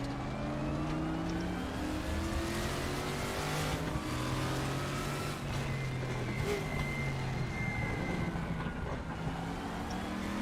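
Race car engine in the RaceRoom racing game during a ranked online lobby race, a steady loud engine drone with shifting pitch and gear changes, accompanied by tire noise and no talk over it.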